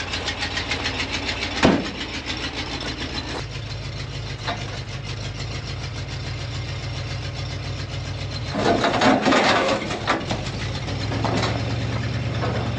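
An old Ford truck's engine keeps idling steadily with a low, throbbing rumble after the choke is set, with a few knocks and clunks and a brief rise in revs partway through.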